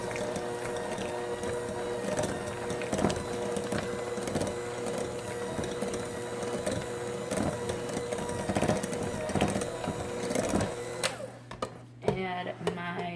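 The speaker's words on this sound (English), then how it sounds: "I'm going to mix up my cream cheese on low" An electric mixer runs on low through cream cheese for a cheesecake, a steady close whirring drone with faint rhythmic thumps, then stopping near the end.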